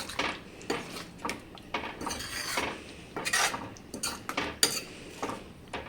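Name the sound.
gently stirring vegetable curry in a pan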